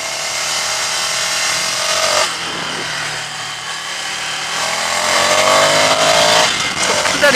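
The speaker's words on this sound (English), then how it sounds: "you get a nice engine noise as well once you start revving it out" A Ducati Scrambler Icon motorcycle engine roars loud and close, climbing in pitch as it revs out, briefly backing off, then rising hard again, with wind rush over it.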